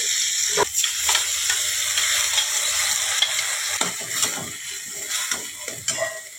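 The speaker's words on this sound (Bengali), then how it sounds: "মশলাটা আগে আমি দিয়ে দেবো, এটা আমি একটু ভেজে নেব।" Ground spices sizzle and fry in a pan for a Bengali banana-flower paste dish, with a continuous crackling hiss broken by repeated scrapes and clinks of a stirring utensil.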